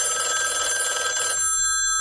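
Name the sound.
telephone ringing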